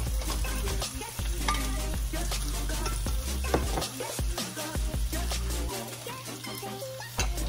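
Pork hock (pata) for estofado goes into a hot pan with a loud, steady sizzle and frying crackle, broken by clanks and scraping stirs of a utensil against the pan.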